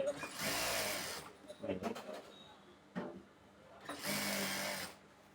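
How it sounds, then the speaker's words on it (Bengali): A sewing machine stitching elastic and lace onto palazzo pants, short bursts of rapid whirring stitching separated by brief pauses and small clicks, close and fairly quiet. "তারপর একটু করে সেলাই দিয়ে এইভাবে রাবারটা একটু টান দিয়ে বাইর করে লেসে আবার সেলাই দেন"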